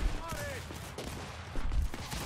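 Gunfire in a King of the Hill match of a shooter game, scattered shots and bursts across the moment, fairly loud, mixed with game sounds and brief voice chatter.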